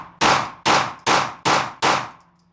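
A Sig pistol loaded with factory ammunition fires five sharp shots at an even pace, roughly half a second apart. Each report is loud and close, with a short decay, and there is no talking.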